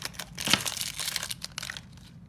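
Plastic wrapping of a LOL Surprise Under Wraps doll package crinkles and tears up close, with a sharp crunch around the half-second mark and softer rustling bursts after it.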